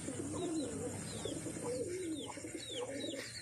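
Pigeons cooing in soft, repeated throaty phrases close by, with faint chirps from other birds scattered over light background noise.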